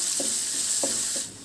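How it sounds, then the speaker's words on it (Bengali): Chopped onion, green chili and garlic stir-frying in a pan: a steady close sizzle with three quick scraping stirs, no voices. "1টা পেঁয়াজ কুচানো দিয়ে দিলাম। দিয়ে সব মিশিয়ে একটু নাড়াচাড়া করে ভাজা ভাজা করে নিলাম।"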